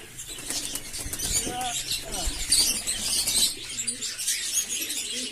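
Racing pigeons coming out of a cage, with soft cooing, chirps and bursts of wing flapping close by, mixed with rustling and a person talking over the birds.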